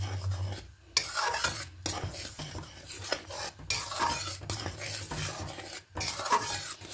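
A utensil scrapes and stirs around a large wok as milk is boiled down, producing repeated rhythmic metallic scraping strokes over a faint bubbling simmer, close and moderately loud.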